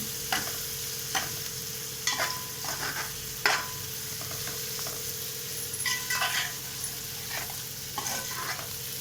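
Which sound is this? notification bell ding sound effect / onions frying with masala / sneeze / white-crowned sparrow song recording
onions frying with masala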